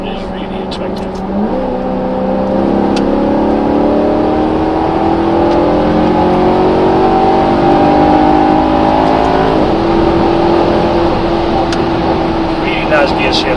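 A 2009 Maserati Quattroporte GTS engine revs in sport mode and climbs through gears inside the cabin, loud and continuous, with rising and falling engine tones.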